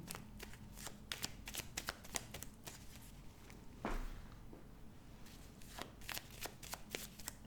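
A deck of tarot cards being shuffled by hand, rapid riffling bursts and soft slaps repeating close up, with a brief thicker shuffle midway and no voices.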